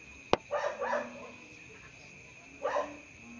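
A neighbour's dogs bark in two short bursts, a double yap and then a later single bark, moderately close. A sharp click comes just before, over a quiet hum, with no talking.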